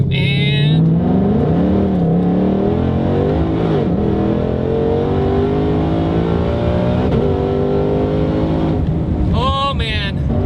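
2020 Shelby GT500, a 930 hp car, accelerating hard through automatic shifts, its engine rising loud and steady from inside the cabin with a voice talking over it.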